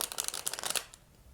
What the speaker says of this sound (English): I'll go ahead and get shuffling with this.